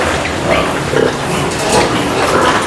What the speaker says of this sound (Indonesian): ini babi-babinya ya